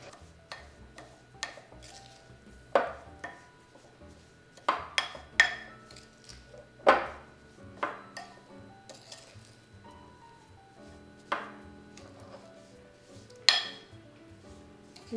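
Almond cookie dough being mixed in a bowl yields a series of sparse, sharp clinks and taps from a utensil against the bowl, irregular and close, over fifteen quiet seconds.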